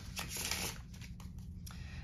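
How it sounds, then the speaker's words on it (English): A deck of playing cards is shuffled up close during a card trick, giving soft repeated riffling bursts over a faint, steady background. "we'll give the deck a little bit of a shuffle here"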